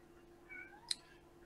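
A domestic cat meows once, a short, fairly close call over quiet room tone in the middle of a conference presentation.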